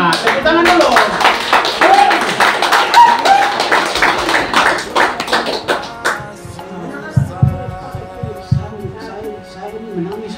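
A congregation at a Kingmi church jubilee gathering in Merauke, South Papua, claps in quick rhythmic bursts among voices. The clapping thins after about six seconds, leaving lower, humming sound and talk.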